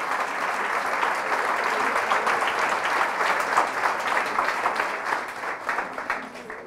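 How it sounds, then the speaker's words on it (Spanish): A church congregation applauds loudly and steadily, a dense wash of clapping that holds at an even level throughout without breaks. "Fuertes aplausos al Rey de Reyes y al Señor de Señores"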